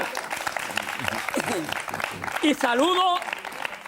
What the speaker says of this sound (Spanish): Un fuerte aplauso, ¿no?